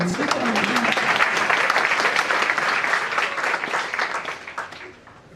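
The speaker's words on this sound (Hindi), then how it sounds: "ताली तो इतनी बज जाती है," An audience at a Jain religious discourse by Vidyasagar ji Maharaj breaks into sustained, dense clapping. The applause is loud and full, then thins and fades toward the end.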